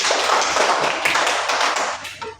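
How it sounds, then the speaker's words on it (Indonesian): Students in a classroom clap for a classmate, a close, busy burst of many hands that stays strong and then thins out and fades at the end. "Tepuk tangan dulu untuk Feby"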